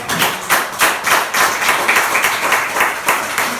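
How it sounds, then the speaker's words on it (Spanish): Church congregation clapping in praise during a Spanish-language sermon, dense steady applause sustained throughout, fairly loud and close, with no speech over it. "Ese aplauso que sea para Cristo."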